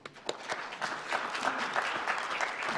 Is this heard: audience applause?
yes